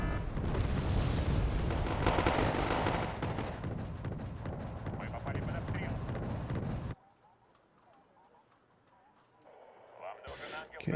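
Enemy artillery fire in the Wargame Airland Battle video game: dense, loud rumbling barrage of booms and blasts for about seven seconds, then an abrupt drop to a quiet background, with a faint rise near the end.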